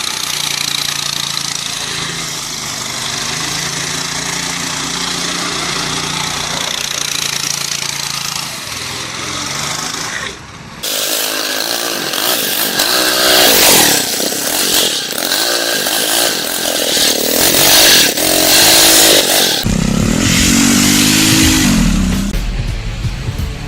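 A small petrol engine of about six horsepower powering a drift trike, buzzing and revving with a raspy, chainsaw-like whine that holds steady, then surges louder and rougher in the latter half.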